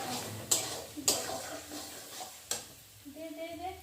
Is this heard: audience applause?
no